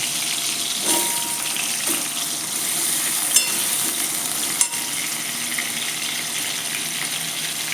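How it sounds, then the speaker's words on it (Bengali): Potatoes fry in oil already used for pointed gourd, a steady bright sizzle running throughout with a few soft stirring knocks and clinks, close and fairly loud with no talking. "এবার ওই একই তেলের মধ্যে আলুগুলো দিয়েও ভেজে নিতে হবে।"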